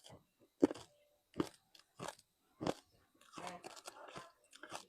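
Crunchy sweet muya, made from fried rice and sugar, being bitten and chewed up close: several sharp, separate crunches in the first few seconds, followed by softer chewing under a bit of talk.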